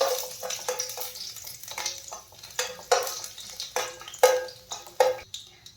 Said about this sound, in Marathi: लसूण छान फ्राय होऊ द्यायचं आहे